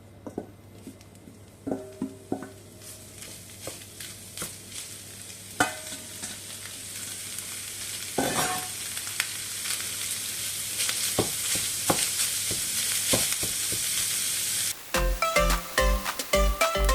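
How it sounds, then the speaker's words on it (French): Minced meat fries in a pan on a hob set to power 7 while being stirred, giving a steady broadband sizzle with scattered scraping knocks, growing louder toward the end, no talk. "Je fais revenir ma viande hachée."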